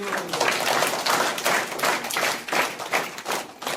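Audience clapping at a school Independence Day celebration in Odisha, honoring a teacher: a steady patter of many hands, fairly close and moderately loud, with uneven bursts and no talking over it.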